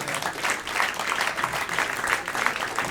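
Comedy club crowd bursts into sustained applause, a dense wash of clapping at moderate level with faint voices mixed in.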